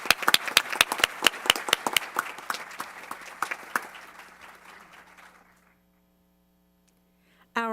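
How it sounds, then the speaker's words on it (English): A round of applause from attendees at a school board meeting, a dense burst of hand claps that thins out and fades to silence over about five seconds before a voice briefly starts at the end. "so let's have another round of applause."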